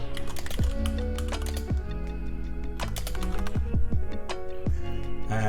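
Fingers type rapidly on a computer keyboard, a close, crisp run of irregular key clicks and taps lasting several seconds.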